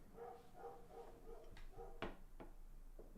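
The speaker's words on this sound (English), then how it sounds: "What is he barking at?" A dog barks a few times indoors, faint and somewhat distant, the short yaps spread irregularly over a low steady background hum.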